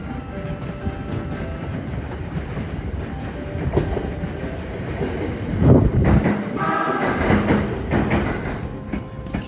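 An express train rumbles past in Japan with a heavy, continuous roar and rattling wheels, swelling louder midway and then holding steady.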